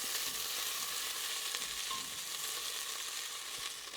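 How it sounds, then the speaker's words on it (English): Garlic and jalapeno sizzle in a pan for turkey chili, a steady, even frying hiss that holds at the same level throughout with no voices. "I'm gonna stir in the garlic, fold it in, fold in the jalapeno"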